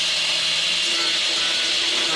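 A steady, high-pitched power tool whine runs without a break, like an angle grinder cutting metal, loud and close.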